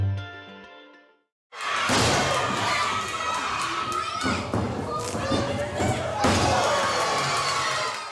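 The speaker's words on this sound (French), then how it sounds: "La foule vibre, les lumières claquent et chaque coup porté déclenche une vague d'adrénaline" A loud crowd roars and cheers at a wrestling event, with a dense, sustained wall of shouting and applause and heavy thuds breaking through, after a brief quiet moment at the start.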